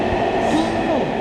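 Underground metro train rumbling through a tunnel, a steady, loud, close roar of wheels and carriage with some squealing tones throughout the short stretch.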